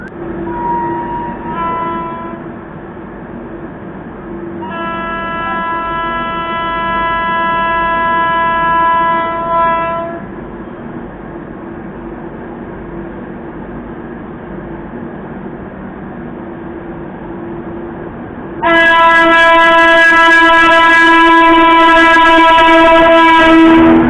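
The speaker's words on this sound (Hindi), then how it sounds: "चलिए देखते हैं कि वो कौन सी ट्रेन है जो हम लोग को जो ओवरटेक कर रहा है" The Vikramshila Express overtakes at Khurja railway station, sounding its horn in long blasts, with a short toot, an extended honk and a final loud sustained blast over steady rolling rail noise.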